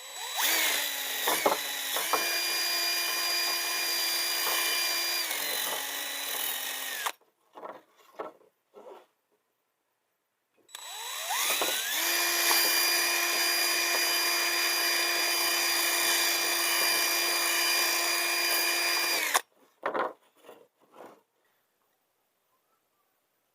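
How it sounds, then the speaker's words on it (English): A power drill whines loudly in two long bursts, each several seconds, with a pause and scattered clicks between them and after. "And now we do some drilling."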